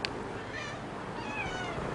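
A cat meows once, a short faint call right at the start, then low street-like background noise continues with no further clear calls; the cats belong to a group of street strays, including mothers with kittens.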